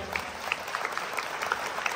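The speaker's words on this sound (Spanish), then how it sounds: "fuertes aplausos al Señor" A church congregation applauds during a healing and deliverance service, a steady, moderately quiet wash of clapping with a few sharp peaks throughout.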